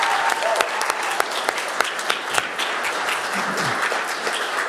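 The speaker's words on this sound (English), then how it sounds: "Let's give Cameron a big round of applause." Applause from an audience at a school board meeting, a dense, steady stretch of clapping with a few louder nearby claps and faint voices underneath.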